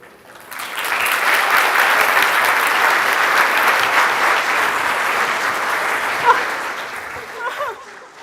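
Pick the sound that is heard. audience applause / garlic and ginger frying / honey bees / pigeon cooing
audience applause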